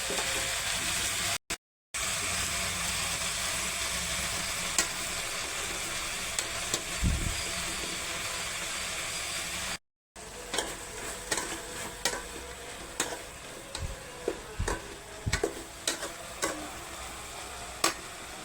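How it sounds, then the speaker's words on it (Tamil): Chopped tomatoes sizzle in a pan for a chicken dish while a spoon stirs them, a constant frying hiss with irregular scraping knocks that grow busier after a short break. "அதே மாதிரி நம்ம கட் பண்ணி வச்சிருந்த டொமேட்டோஸ் போட்டுக்கலாம். அதுக்கப்புறம் நல்லா கிண்டணும்."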